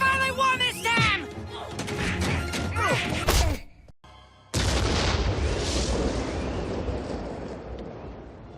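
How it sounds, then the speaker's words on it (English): A cartoon robot explodes in Gravity Falls with a sudden loud blast that rumbles and fades over several seconds, following a stretch of shouted voices. "The robot is destroyed and it explodes."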